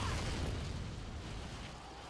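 Explosion in the action video game Vindictus, a dense, steady low rumble with broadband noise that holds for about two seconds without clear separate blasts.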